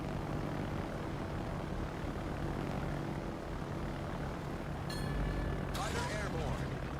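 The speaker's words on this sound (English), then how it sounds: "Fighter airborne." A fighter aircraft engine in a naval combat video game drones steadily as a continuous propeller-like hum, with brief game effect sounds near the end and no voices.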